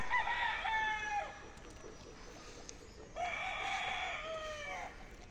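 Two game fowl roosters crow on a gamefowl breeding farm, one long cock-a-doodle-doo and then a second one a few seconds later, clear and fairly close over quiet background noise.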